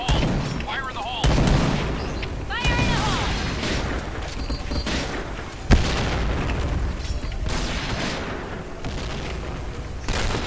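A grenade blast in the shooter game Point Blank goes off amid ongoing gunfire and booms, with a sharp burst standing out near the middle over steady background battle noise and some talk.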